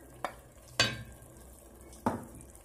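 Onion and tomato frying in a pan for sardine meatballs in tomato sauce, with three sharp scrapes of stirring at steady intervals over a soft, continuous sizzle, close and alone.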